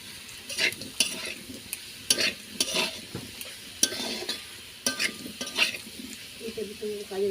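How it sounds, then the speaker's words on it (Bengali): Potatoes fry in a pan with a little turmeric, stirred with a utensil that gives repeated scraping and clattering strokes over a steady close sizzle. "দিয়ে ভালো করে ভেজে নেব"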